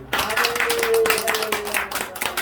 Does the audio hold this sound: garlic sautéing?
no